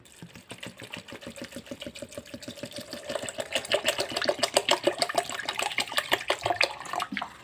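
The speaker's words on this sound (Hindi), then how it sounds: "अब हम इसमें पानी डालेंगे" Water poured into a blender jar of pomegranate seeds, a gurgling stream with rapid rhythmic glugging pulses that swell louder and brighter as the jar fills, close and without speech.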